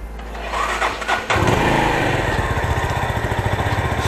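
A big motorcycle engine cranks and catches, then settles into a loud, throbbing idle with a rapid, even pulse, close by and with no talking.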